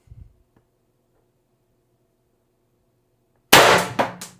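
A single sharp report from an IntruBuster Gen 2 CO2 gun, a loud close crack with a brief metallic ring, following a long near-silent pause.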